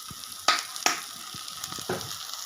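Fish with grated coconut sizzles in a pan as raw coconut oil is poured over it, giving a soft steady crackle punctuated by a few sharp close pops and clinks, with no talking.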